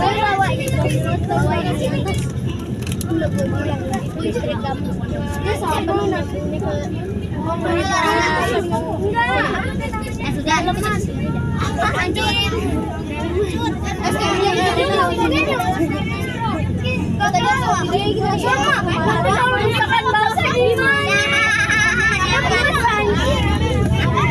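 A convoy of luxury cars rolls past at Taman Mini Indonesia as a continuous rumble of engines and tires. Constant nearby chatter and background crowd babble run over the traffic throughout.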